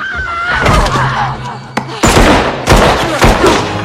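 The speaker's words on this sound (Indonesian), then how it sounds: "Kirby yang masih sanggup bangun setelah tertembak tadi menembak balik Wayne" Loud, sharp gunshot blasts from the film Scream VI ring out several times, each with a booming echo, over a tense background of dramatic sound.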